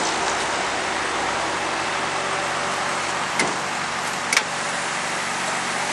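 A Mitsubishi FTO with a quad-cam 2-litre V6 and an HKS filter idles steadily at a used car dealership, giving a smooth, even, continuous engine hum with a couple of brief clicks and no voices.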